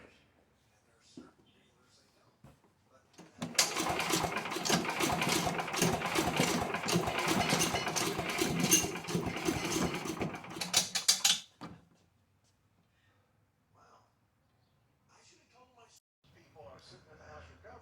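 A Yard Man wood chipper's small engine with low compression starts abruptly, runs loud and rough for about eight seconds with a rapid mechanical chatter, then cuts off, leaving quiet with faint talking before and after.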